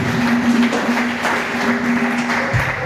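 A church congregation applauds together at a service, a steady wash of clapping under a sustained tonal hum, with no clear voices over it.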